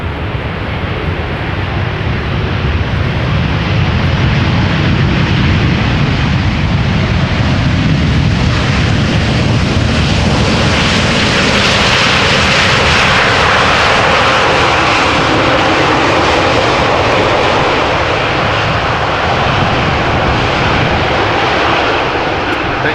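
An Embraer 175 jet at Amsterdam Schiphol Airport gives a loud, sustained engine roar with broad rumble and whine that swells and fades slightly as it moves past, continuous throughout.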